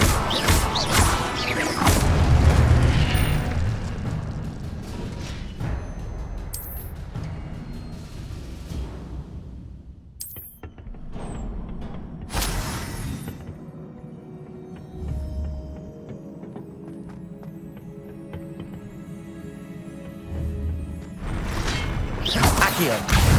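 Incendio fire spell cast repeatedly in Hogwarts Legacy, each cast a bright whooshing burst followed by crackling, spaced several seconds apart over low ambient rumble.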